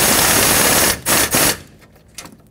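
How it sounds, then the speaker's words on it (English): An air impact gun set to its lowest setting snugs the exhaust manifold mounting nuts on a 2009-2019 Ford Flex, giving a loud close rattling burst of about a second followed by two short pulses, then quiet. "I have my air gun set to the lowest possible setting."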